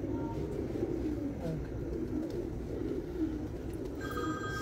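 Pigeons at a pigeon loft cooing in a soft continuous low murmur, with a brief electronic ringing tone near the end, all fairly close and without clear speech.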